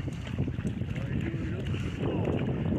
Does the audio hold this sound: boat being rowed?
yes